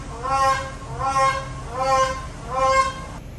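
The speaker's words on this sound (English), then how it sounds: "So it definitely was that bird doing the honking" A large bird in a zoo enclosure honks four times in a regular rhythm, each call a loud, nasal goose-like blare standing alone against quiet background.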